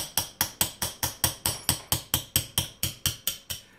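Steady hammer strikes drive pins out of an H&R Topper 188 shotgun, about fifteen sharp, evenly spaced metallic taps in quick succession, close and clear with no talking.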